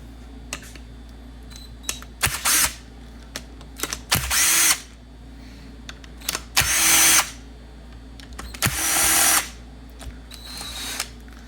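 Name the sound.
power tool removing four bolts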